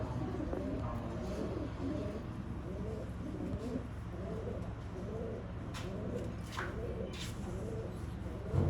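A male teddy pigeon coos in a quiet, repeated rhythm of soft throaty calls close by, with faint background hum and no talking.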